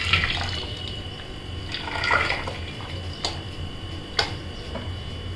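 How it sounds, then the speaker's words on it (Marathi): A pot of water boils for rice flour dough, giving soft, uneven bubbling with scattered ticks and small pops at moderate loudness. "पाण्याला छान उकळी आलेली आहे."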